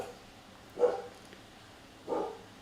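A dog barks indoors, two single muffled woofs about a second apart, heard faintly from some distance against a quiet room background.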